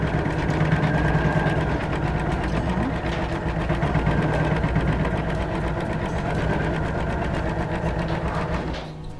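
A sewing machine steadily stitching a rose appliqué, with a continuous rapid mechanical whir and clatter held at close range for several seconds before it slows at the end.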